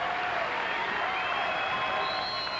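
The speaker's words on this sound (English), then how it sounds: "with the crowd roaring like that" A volleyball crowd at an AVP beach match final roars and applauds at match point, a dense sustained wall of clapping and cheering with shrill whistles rising over it.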